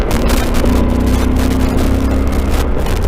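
A Yamaha Super Tenere motorcycle engine drones steadily and close on a corner, a held mid-pitch tone beneath heavy wind buffeting throughout.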